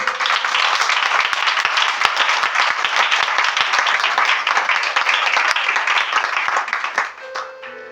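Church congregation clapping and cheering for Jesus during a French-language worship service, with dense sustained applause at full volume that tapers off near the end.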